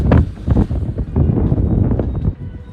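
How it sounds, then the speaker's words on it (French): Strong, violent wind buffets the microphone outdoors on the Champs-Élysées, a loud continuous roar with gusting surges and rustling, no voices. "En ce moment il a du vent très violent"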